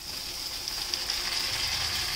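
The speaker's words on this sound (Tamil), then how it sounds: "ஒரு ரெண்டு நிமிஷம் தான் வதக்குறீங்க வெங்காயம்." Onions sautéing over a high flame in a pan for Kashmiri tomato chutney, cooked on a houseboat; a steady, even hiss of frying runs throughout without pause, close and moderately loud, with no talking.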